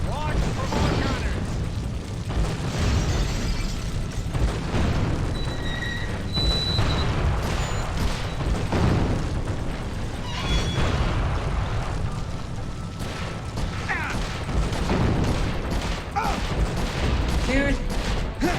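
Cannon fire and explosions in the video game GUN, a dense stream of booms and blasts mixed with game effects, continuous throughout with people talking over it.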